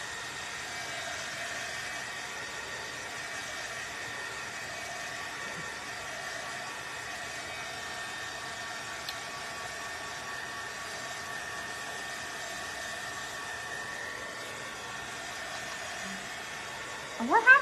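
A hair dryer blows steadily while drying paint on an antique lock craft kit, a faint, even whirring hiss that holds for the whole stretch before a few brief knocks at the end.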